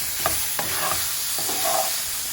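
Sabudana khichdi of tapioca pearls being stirred in a pan over high heat, a few scraping stirs over a soft, steady frying sizzle, close and fairly quiet, with no talking.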